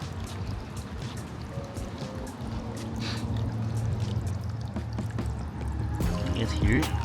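Water trickling and dripping down rocks in a misty spot near the Monterey shore, a continuous splashy trickle with scattered drips, close by, alongside steady low background rumble.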